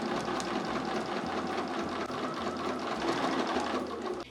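A sewing machine runs steadily up close, stitching a fabric Christmas village church ornament, its motor whirring with a rapid needle rhythm and a low pulsing thump that shifts slightly over the few seconds, with no talk.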